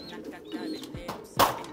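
Pet pigeons coo softly in a few low, throaty calls close by, ending in a sharper burst of sound.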